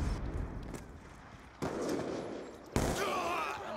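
Three sharp rifle shots from a sniper in Call of Duty Black Ops II crack out spaced about a second apart amid faint background game noise, each a sudden burst with a brief tail.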